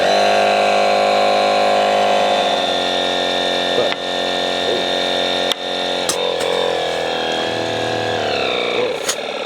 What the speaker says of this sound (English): So what you were hearing was the tube kind of popping into place.